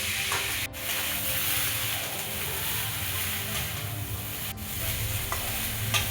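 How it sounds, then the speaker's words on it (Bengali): Chopped cauliflower stirred in a pan with turmeric for a vegetarian cauliflower curry, giving a steady sizzle of frying under repeated scraping of the spoon, with two sharp clinks against the pan along the way. "আবারও নাড়াচাড়া করে ফুলকপি কুচনোগুলো দিয়ে দিল। আবারও নাড়াচাড়া করছে।"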